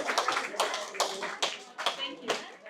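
Small group clapping in welcome at a birthday celebration gathering, a handful of close, uneven hand claps in bursts with some murmuring between them.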